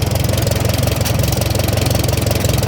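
A Farmall M tractor engine idles steadily nearby, a low rhythmic chugging pulse that stays even and loud throughout with no voices.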